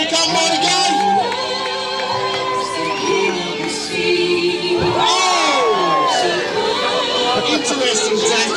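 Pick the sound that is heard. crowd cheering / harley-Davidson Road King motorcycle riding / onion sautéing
crowd cheering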